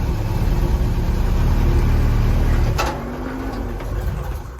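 An M-151 A2 military vehicle's engine runs loud and close inside a shop, then a sharp clunk cuts in and the engine drops to a quieter idle rumble as it moves off.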